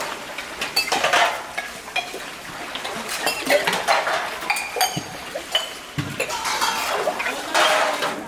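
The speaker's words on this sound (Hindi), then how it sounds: "कोई बर्तन साफ करने में सहयोग कर रहा है" Dishes and pots being washed at a gurukul, with steady clinking of metal utensils and pans against each other, close and busy, along with light splashing water and no talk.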